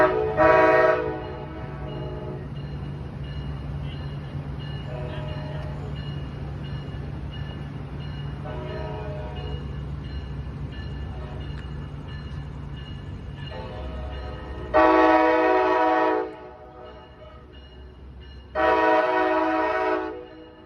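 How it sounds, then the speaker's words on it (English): A Brightline train rumbles past at a grade crossing with a steady low roar, while its horn sounds in two loud, sustained blasts near the end, plus a brief earlier burst. "But this is how we get trains through"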